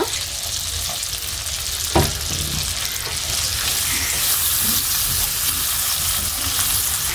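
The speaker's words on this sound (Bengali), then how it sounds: "আমি এখানে পেঁয়াজ কুচি দিয়ে দিচ্ছি। এই তেলের ভিতরেই আমি রান্না করে নিব।" Chopped onion sizzles and fries in soybean oil in a pan, a steady close crackling hiss that runs throughout with a brief stirring clatter near the start.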